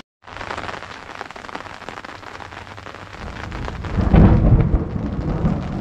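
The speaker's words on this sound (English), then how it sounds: "I'm braving coming out here in the thunder, wow, and the lightning" Heavy rain hisses steadily at a rural homestead during a flash-flood storm, and deep rolling thunder builds under it near the end, loud and close.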